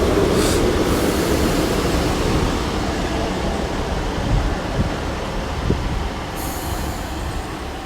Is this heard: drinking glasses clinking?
no